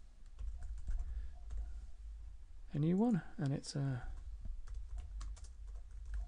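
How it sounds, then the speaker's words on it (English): Keys clack on a computer keyboard as a part number is typed into database software, light scattered taps running under and around a brief stretch of close speech. "we can click on add and we can type in the new part number"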